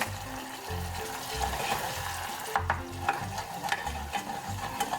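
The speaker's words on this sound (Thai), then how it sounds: "จากนั้นเราก็จะผัดทุกอย่างให้เข้ากันดีก่อนนะคะ" Red sauce made with fish sauce and sugar, for fried chicken wings, is stir-fried in a pan, with a steady sizzle under repeated rhythmic spatula scrapes and clinks, close up and with no talk.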